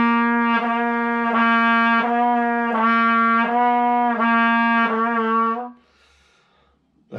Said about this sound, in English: If you don't give more air, if you just press the valves, it's going to sound like this.